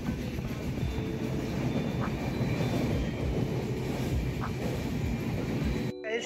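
Steady rumble of a train at a railway station in Delhi, a continuous loud low roar with faint brief squeals, no voices, cutting off abruptly at the end.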